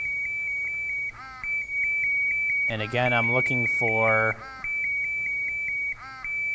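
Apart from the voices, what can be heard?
MSA Solaris gas detector audible alarm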